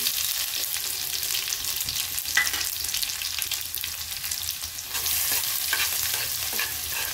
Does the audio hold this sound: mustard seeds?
yes